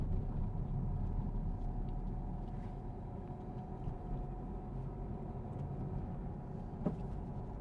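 A car on an out-of-town road during a driving lesson, a low steady engine rumble and road noise inside the cabin, gently rising and easing, with no talk.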